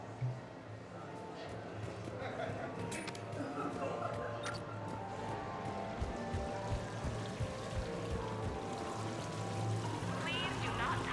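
Steady rushing waterfall in a Mass Effect 3 game scene, a broad continuous wash of falling water holding at an even level throughout, with faint background voices and small ambient sounds mixed in.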